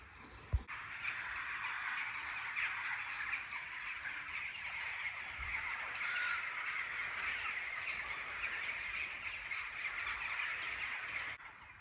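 Birds call outdoors at a bushcraft camp in a natural shelter. Crows caw steadily and continuously in the background, fairly faint, with no talking.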